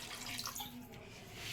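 Water poured into a pan of tamarind-soured fish curry gives a steady, soft splashing and trickling that lasts the whole moment, fairly close with no talk.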